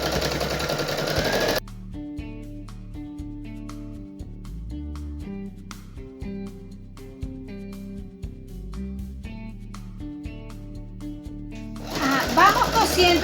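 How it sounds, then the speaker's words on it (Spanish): A sewing machine stitches fabric with a rapid mechanical chatter, clearest at the start and end. In between, background music plays with a steady rhythmic pulse. "vamos a introducir la aguja de nuevo y bajamos por supuesto el pie y ahí seguimos cosiendo."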